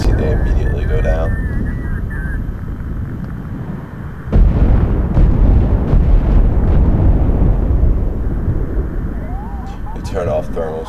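Artillery area attack in the video game Project Reality, a sudden loud burst of explosions followed by sustained rumbling bombardment, with a voice talking over it.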